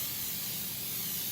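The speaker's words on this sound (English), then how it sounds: "And then I love my pan baking spray." Pan baking spray is sprayed from a can into a ring form baking pan, one short, close, continuous hiss that lasts the whole moment.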